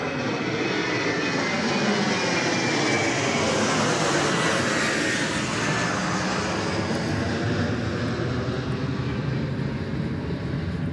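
The A42 flight to Darwin takes off from runway 34 right at Sydney Airport at night, a loud, sustained jet engine roar close by that holds steady throughout, with no voices.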